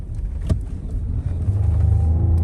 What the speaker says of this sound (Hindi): ये बहुत मुश्किल है यहाँ गाड़ी चलाना, और भाई तो फिर पूरी उड़ा रहे हैं गाड़ी